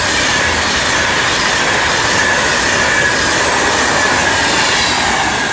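British Rail Class 352 electric train 352.57 departing Stafford on the West Coast Main Line for Crewe, a loud, close, continuous rumble of wheels on rail with a faint high squeal running through it.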